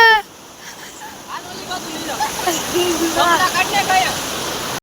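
Steady rushing water of a village river flows throughout, broad and continuous, while a person talks over it.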